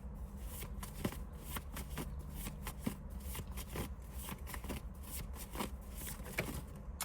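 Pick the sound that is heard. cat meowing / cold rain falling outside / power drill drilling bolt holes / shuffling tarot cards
shuffling tarot cards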